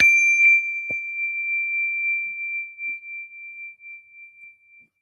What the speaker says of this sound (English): when you detect the vibrations of my bell, allow your eyelids to float open